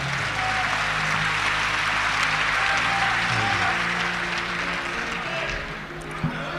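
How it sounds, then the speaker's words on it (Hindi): Sustained applause from a seated audience at a shayari poetry recital hall, loud and steady for several seconds, with a faint murmur of voices underneath. "एक बार पूरा सदन उनसे पुनः अनुरोध करे अपनी तालियों के साथ"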